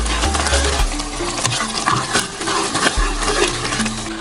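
Steady bubbling and sizzling of sauce cooking in a pan, with occasional scrapes and clinks of a utensil and a low hum underneath.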